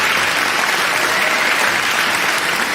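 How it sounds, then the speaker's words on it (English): Loud, continuous applause from a debate audience greeting the student contestants, dense and even throughout with no speech over it. "a round of applause for all these contestants"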